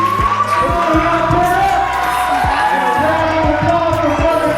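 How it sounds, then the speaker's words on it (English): An audience at a Black History Month leadership brunch claps and cheers together, with whoops and shouts rising over a continuous bed of crowd noise and talk. "Round of applause for Brother Anthony."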